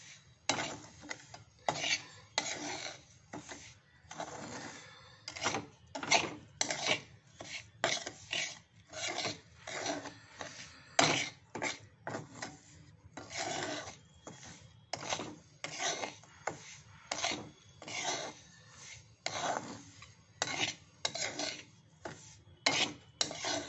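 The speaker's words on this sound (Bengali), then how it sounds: "এবার আমি সুজিটা ভেজে নিচ্ছি সম্পূর্ণ ঘি দিয়ে।" Semolina frying in ghee in a pan, stirred steadily, giving a continuous rhythmic scraping and rasping of a spoon against the pan with soft sizzling beneath, fairly quiet and close, with no talk.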